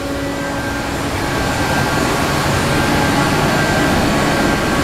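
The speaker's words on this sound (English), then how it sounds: "I have the rear air conditioning running just to show that it is functioning" The rear air conditioning inside a shuttle bus gives a steady, loud broadband blower roar that holds level throughout with no voices.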